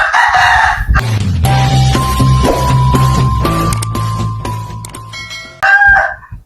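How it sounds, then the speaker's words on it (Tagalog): Roosters crowing and chickens clucking at daybreak, several long drawn-out crows following one another close by, loud and overlapping with a constant low rumble beneath. "ang daming manok kasi nga po ay mag-uumaga na"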